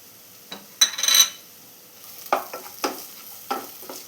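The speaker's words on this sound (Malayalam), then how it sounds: "ഇതിലോട്ട് ഇനി ഇഞ്ചി വെളുത്തുള്ളിയും കൂടെ ചതച്ച് വെച്ചത് ചേർത്ത് കൊടുക്കാം." Crushed ginger and garlic sautéing in a pan for chicken curry, soft frying sizzle punctuated by several distinct stirring scrapes in an irregular rhythm.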